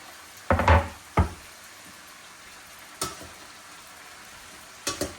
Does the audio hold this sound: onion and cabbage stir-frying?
yes